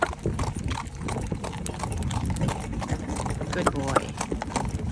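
Rhythmic clip-clop of horse hooves trotting steadily on firm ground, with a brief spoken word over the top and a distant whinny.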